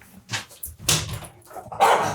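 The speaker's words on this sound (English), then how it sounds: "I'm going to let my dog out the door here." A pet dog at a house door gives a few short barks and whimpers, loud and close, in separate bursts with quiet gaps between them.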